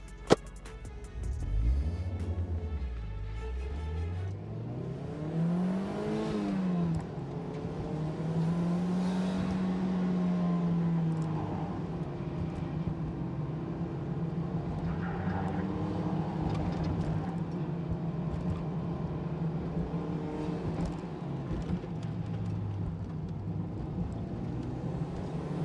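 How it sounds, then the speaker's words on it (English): An emissions-legal turbocharged Mazda MX-5 NC pulls hard on a race track, its engine note rising and falling through gear changes and sweeping revs, steady and close from inside the car with no talking. "Let's jump into the car, take it for a few laps and find out."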